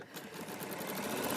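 A sewing machine runs steadily while stitching a quilt block, a fast continuous whirring hum held at an even, close level throughout.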